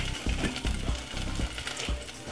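Salmon sizzling in extra virgin olive oil in a pan, a steady close crackle with soft stirring knocks recurring every half second or so, no voices.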